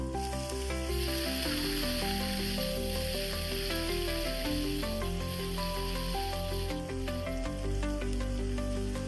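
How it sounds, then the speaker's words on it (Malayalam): Chopped kale hits a hot pan for a Kerala-style thoran with green chillies and turmeric, producing a steady, close sizzle that runs continuously throughout, with no talking. "അതിലേക്ക് അരിഞ്ഞു വെച്ചിരിക്കുന്ന കേലിട്ട് കൊടുക്കാം"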